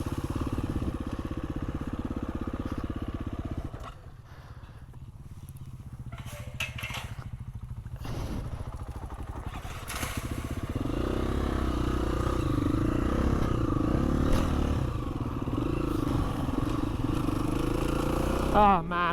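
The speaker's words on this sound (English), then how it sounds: "This sure is a different experience riding through here on a dirt bike." A dirt bike engine drones continuously while riding a trail in Wales, rising and falling with throttle and rattling over rough ground, with a rider talking over it.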